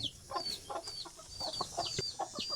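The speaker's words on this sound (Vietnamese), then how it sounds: "ngoài vật nuôi chính thì ông còn nuôi một con gà cảnh cho mình nha" An ornamental chicken kept in a cage clucks repeatedly in short, faint, irregular bursts, heard close with no talking.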